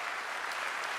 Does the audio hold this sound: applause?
yes